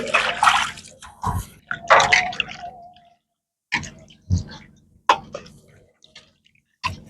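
Tilapia fish are washed by hand in water with a series of splashes, sloshes and drips in irregular bursts, separated by short pauses.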